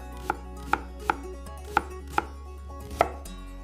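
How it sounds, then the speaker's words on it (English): Fresh onions chopped on a chopping board with a knife: six sharp, evenly spaced knife strikes, close and distinct over a quiet background, with no voices. "I am carefully chopping the fresh onions on the chopping board."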